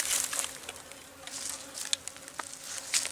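A swarm of bees buzzes inside a closed-off birdhouse brought to a bee farm, a steady dense hum with scattered sharper flyby whines, fairly close and moderately loud.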